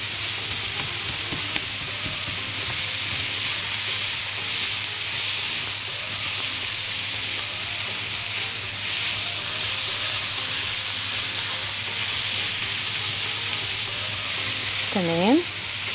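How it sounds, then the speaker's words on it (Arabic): Meat sizzles steadily as it fries in a pan, with occasional stirring scrapes throughout; a continuous close, loud hiss with no talking. "ونسيبها بقى كل شوية نقلبها لغاية ما اللحمة تستوي"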